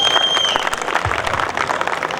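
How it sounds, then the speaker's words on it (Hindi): An audience at a live music show at Kangra Fort applauds in a dense, steady wash of clapping that carries on without a break, with faint voices mixed in. "अरे जोर से ताली"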